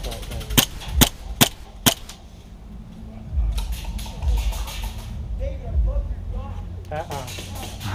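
Sharp video-game gunshots from Trouble in Terrorist Town crack in a quick burst of four, followed by more distant game sounds while players talk throughout.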